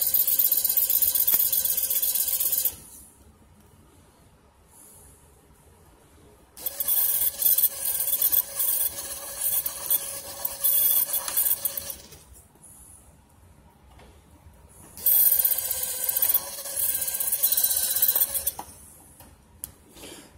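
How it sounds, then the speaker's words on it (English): A small drill with a very light bit whirs in three separate bursts into a 1993 Enterprise D toy, with quiet pauses between, a high, raspy grinding sound up close. "this is a very light drill bit, so you want to be super gentle with it."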